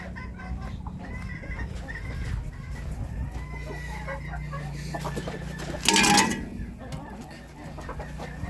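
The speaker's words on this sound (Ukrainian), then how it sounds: "Диви, диви, диви, що робить та курка." A hen in a farmyard clucks repeatedly among other poultry and farm-animal noise, with a louder, harsher burst near the end and a voice talking at times.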